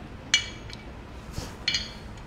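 Glasses clink together for a toast at a casual drinking session among friends, two bright clinks about a second apart with a faint tap between, fairly close in a quiet room.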